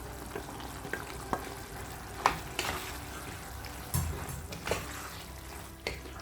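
Cooked macaroni is stirred into a simmering cream sauce in a pan, making a soft, steady sizzle broken by several scraping and clacking strokes of the spoon against the pan.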